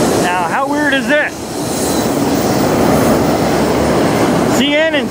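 Freight train of CP and UP locomotives pulling autoracks past the Denfield Road bridge in London, a steady loud rumble of rolling cars with high, wavering wheel squeals at the start and end.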